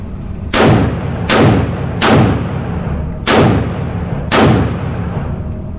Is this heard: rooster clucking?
no